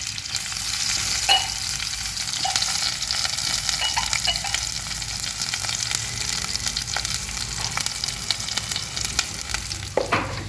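Mustard seeds crackle and spit steadily in hot oil, a dense fizzing sizzle with sharp pops scattered throughout, close and fairly loud, no voices.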